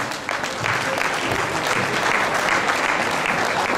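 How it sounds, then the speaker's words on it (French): An audience at a concert applauds a trumpet player with dense, steady clapping that fills the hall for several seconds without a break. "On applaudit encore une fois, s'il vous plaît, Nicolas Denac."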